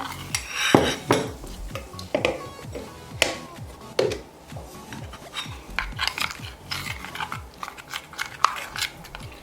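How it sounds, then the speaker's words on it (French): A spoon stirs a mixture of ingredients with honey in a bowl, giving repeated clinking and scraping strokes against the sides, close and fairly loud, with no talking. "mélangez bien tous les ingrédients comme vous pouvez me voir faire"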